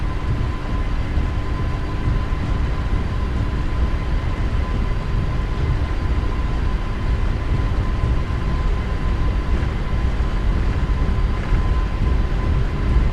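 A PMDG 777-300ER makes its takeoff roll in Microsoft Flight Simulator. A steady, loud jet engine roar with heavy low rumble continues without a break.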